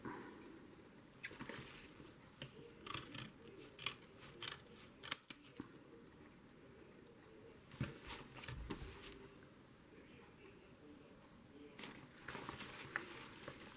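Scissors snipping through paper for a junk journal page, a series of quiet, irregular cutting clicks and rustles close by, with faint handling noises between cuts.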